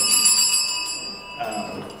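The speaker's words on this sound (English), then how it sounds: "the consecration bells are rung at the elevation of the body of Jesus and the blood of Jesus." A set of new, shiny church consecration bells rings with bright, sustained metallic tones, fairly close and loud, fading gradually before a softer rustle near the end.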